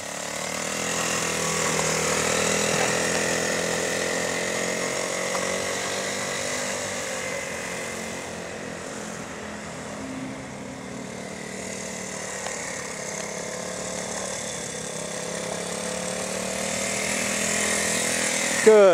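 The small engine of a 1978 Honda Z50 mini trail motorbike runs with a steady, buzzing drone that dips slightly and rises again, close and continuous, with a brief rattle at the very end.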